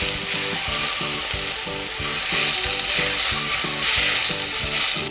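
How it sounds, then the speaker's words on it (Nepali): Rice and black lentils frying with ginger in a pan, a loud steady sizzle close up with a regular scraping, stirring rhythm throughout, no talking. "अब सबै हामीले एकछिन फ्राई गरौँ यो"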